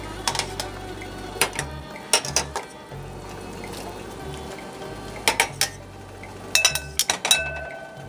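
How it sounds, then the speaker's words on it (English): Cooked ramen noodles lifted from a pan into a big bowl, with a series of sharp utensil clinks and taps against the cookware in small clusters over a quiet kitchen background, close and fairly loud. "I'm just gonna take them right out of the pan and put them right into a nice big bowl."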